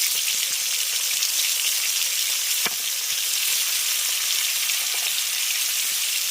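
Chopped tomato with turmeric powder frying in a pan for an okra curry, a loud, even crackling sizzle running throughout, with one short sharp click midway and no voices.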